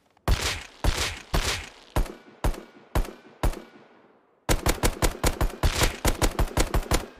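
Rapid bursts of automatic fire from the HMLMG machine gun in Rust: a string of loud, sharp shots with decaying tails, a brief pause, then a fast, dense volley, with no voices.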